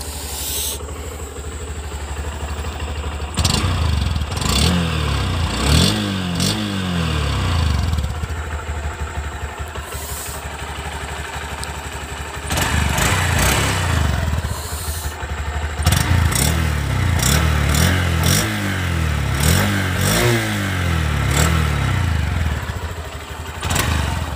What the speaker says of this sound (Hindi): एंड अब आप लोगों को मैं SP125 का एग्जॉस्ट नोट सुना देता हूं।